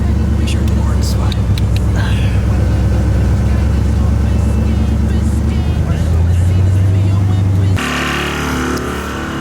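A Nissan 350Z with a leaking radiator runs loud and steady, its engine rumbling continuously before dropping to a different idle tone near the end.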